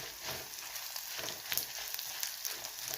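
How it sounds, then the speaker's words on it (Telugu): Dried red chillies and coriander seeds fry in a hot pan, giving a steady close-up sizzle with small crackles and pops throughout and no talking. "ఇది కొంచెం దోరగా వేయించాలి."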